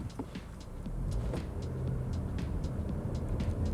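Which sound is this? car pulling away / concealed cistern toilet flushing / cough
car pulling away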